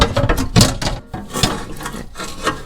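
A ratchet loosens bumper bolts on a Hummer H3, giving repeated close, clicking bursts in short irregular strokes, with no talking.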